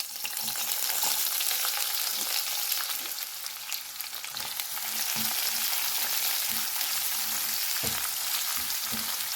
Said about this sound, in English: Cook this till the onions have a light color on them.